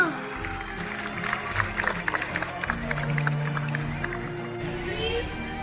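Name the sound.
audience applause at school air show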